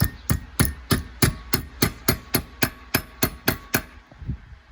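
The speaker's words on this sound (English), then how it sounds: "I'm just going to take a hammer." Steady metal hammer blows bending a rib into a right angle for a car audio trunk side panel, about fourteen sharp evenly spaced strikes, close and loud, with no talking.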